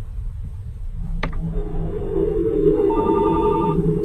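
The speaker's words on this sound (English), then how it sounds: "Dude, my phone just rang." A phone rings in the horror video game The House 2, a short electronic ring pattern heard at moderate level over a low, rumbling ambient drone, with no talking.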